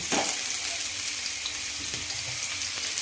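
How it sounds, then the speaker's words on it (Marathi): Two chopped onions frying in hot oil, a dense, loud hiss of sizzling that holds steady for the whole short stretch, with a faint knock near the start and no voices. "तेल तापाय ठेवले त्यामध्ये कट केलेले मी दोन कांदे घेतलेले आता हा कांदा मस्तपैकी परतून घेणार आहे"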